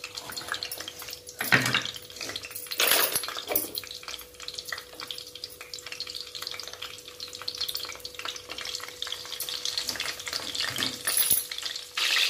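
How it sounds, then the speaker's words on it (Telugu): Vegetables sizzling in hot oil in a pan for stuffed brinjal curry, a steady close crackle with occasional stirring scrapes and no talk. "వీటన్నిటిని కూడా ఆయిల్ లో మంచిగా అంటే కొంచెం వేగేంత వరకు వేయించుకోవాలి ఫ్రెండ్స్"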